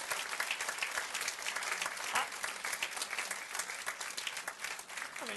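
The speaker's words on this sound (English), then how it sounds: "I mean, you don't even know what they did and you're applauding." A crowd at a New Rochelle State of the City address breaks into sustained applause, a dense, even wash of many hands clapping that holds steady throughout.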